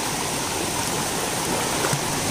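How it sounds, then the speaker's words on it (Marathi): Water rushes continuously down a hidden waterfall in Mhapan, Sindhudurg, into a knee-deep stream, a steady, full hiss with no voices. "हा जो आपल्याला धबधबा वरून जो वाहतो आणि इथून जे प्रवाह खाली येतात"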